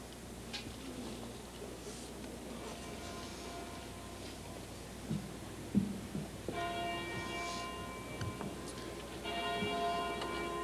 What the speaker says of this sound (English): We can hear the bells tolling here at downtown Raleigh